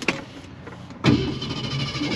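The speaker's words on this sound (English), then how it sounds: "now we're gonna go for a test drive in this just beautiful 1958 Ford Thunderbird" A 1958 Ford Thunderbird starts up: a faint click and brief starter noise, then the engine catches with a sudden burst and settles into a rough, steady idle close by.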